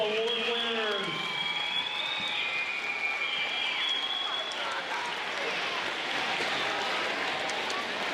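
An audience at a school awards ceremony applauds the Presidential Award winners with a dense, steady wash of clapping that carries on throughout, with a few whoops and a voice audible near the start.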